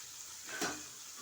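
Green chilies, ginger and curry leaves drop into hot oil in a pan for a Kerala sardine dish, giving a quick rising sizzle that swells and fades over a soft background hiss.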